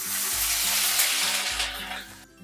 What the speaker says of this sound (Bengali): প্রথমে তেলের মধ্যে দিয়ে দেব আদা কুচি।